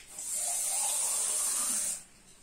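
Water runs from a tap in an outdoor kitchen setting, a steady hissing stream for about two seconds that then stops abruptly.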